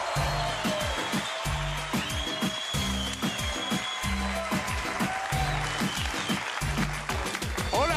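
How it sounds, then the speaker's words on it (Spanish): An audience applauds as a comedian takes the stage, a continuous wash of clapping that carries on under a rhythmic, pulsing backing beat. "un aplauso fuerte para el Veneco"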